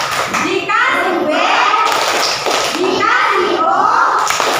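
A third-grade primary school class chants together and claps in rhythm, with loud overlapping children's voices and hand claps mixed through the whole stretch.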